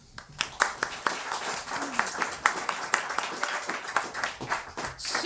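Audience applause, a crowd clapping steadily with sharp individual claps standing out, sustained for several seconds.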